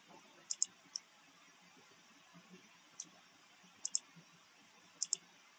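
A computer mouse clicks faintly and close by, in small pairs and single clicks spread over a few seconds, against a quiet room hum with no talk.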